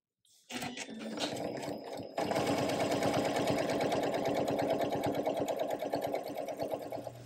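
A sewing machine stitches around the edge of a fabric spring wreath sash, starting with a short burst, pausing briefly, then running in a close, steady mechanical whir with rapid needle clatter.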